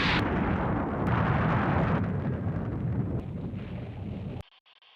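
Anime scene of a volcanic eruption near Austral island: a massive, continuous roaring explosion rumbles loudly for several seconds with crackling bursts, then cuts abruptly to near silence.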